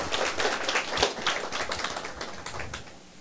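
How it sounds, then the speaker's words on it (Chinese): A seated audience at a lecture on legal theory breaks into applause, dense overlapping claps that hold steady for a few seconds before fading slightly at the end. "来掌声鼓励家己好吗？"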